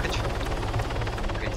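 A helicopter in the video game Arma 3 Apex gives off a loud, steady, rhythmic rotor chop that runs continuously through the whole moment, with close, even beating pulses.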